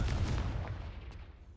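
A Confringo fire spell blast from the game Hogwarts Legacy bursts loud at the start, a heavy booming crack that rolls off and fades over a second and a half, with no talk.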